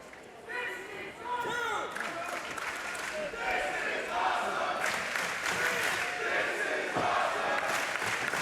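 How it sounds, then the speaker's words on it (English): At a Major League Wrestling Fury Road show during the Opera Cup, a wrestling crowd cheers and applauds, building from scattered shouts into a sustained roar mixed with voices and occasional thuds. "The crowd showing their appreciation."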